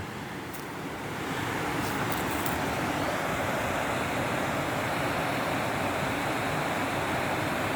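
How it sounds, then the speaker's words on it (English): A mountain waterfall of filtered water in Ecuador, a loud broad steady rush that swells up after the first second and holds constant nearby. "Can you hear the waterfall?"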